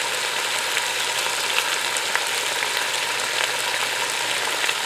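Sliced apple chunks sizzle in a Ninja Foodi alongside maple-glazed chicken thighs, a steady, even frying hiss that holds throughout with no talking.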